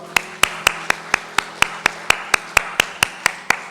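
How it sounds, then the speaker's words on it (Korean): Church congregation clapping in unison during a Sunday worship service, loud sharp claps in a steady even rhythm, about fifteen beats in under four seconds, with a faint hum behind. "하나님께 영광 박수 올려드리겠습니다."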